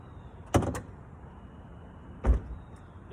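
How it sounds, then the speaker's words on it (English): Car hood being opened: two sharp mechanical clunks about two seconds apart, latch release then a second thump, fairly close over quiet background. "The hood is opening up."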